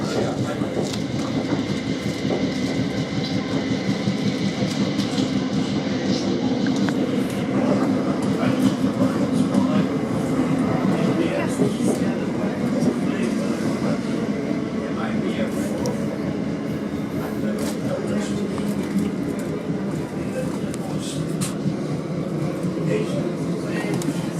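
South West Trains commuter train running between Clapham Junction and Fulwell, a steady loud rumble of wheels and carriage noise throughout with faint clicks, heard from inside the carriage alongside an onboard announcement voice.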